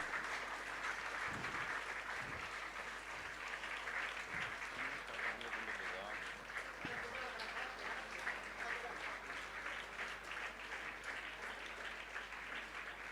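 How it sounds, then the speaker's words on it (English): Continuous applause from an audience at an International Women's Day celebration as a governor honours an INA veteran, a steady roomful of clapping heard at a moderate distance with a few low thumps. "amidst a big round of resounding applause"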